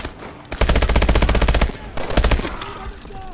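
Machine gun fire in Call of Duty: Advanced Warfare: two sustained, rapid bursts of loud close-range automatic shots, the first about a second long, the second shorter, with a brief lull between.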